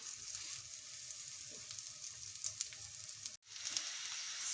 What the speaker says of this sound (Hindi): इसी तरह सारे कबाब हम इसमें फ्राई कर लेते हैं।